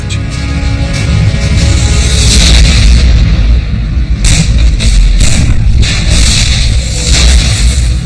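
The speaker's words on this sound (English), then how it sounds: "Soviet artillery begins to shell Berlin on April 20th" Soviet artillery shelling Berlin in a wartime documentary, a loud continuous roar of booming blasts and rumbling detonations with several sharper impacts cutting through.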